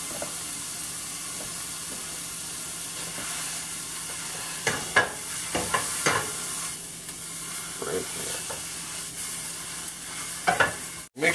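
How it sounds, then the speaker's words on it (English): Ground beef frying in a pan, a steady close sizzle broken by several sharp scraping and stirring clatters of a utensil, louder bursts in the middle and near the end, no talking. "we are going to cook the ground beef"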